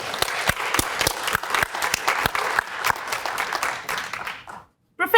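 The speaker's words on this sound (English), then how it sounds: "she deserves a second round of applause" Audience applause for Professor Elizabeth Stuart at a lectureship award event, a dense, steady round of clapping from a room of people that carries for about four and a half seconds, then drops to silence before a brief noise at the end.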